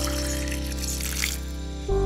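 Clean water trickles steadily out of a garden olla, a continuous close, even flow with no voices, ending in a brief low knock.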